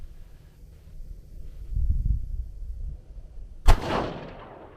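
Single sharp rifle shot from a 22 DPC Wildcat cartridge, loud and close with a trailing outdoor echo, preceded by quiet rustling and wind.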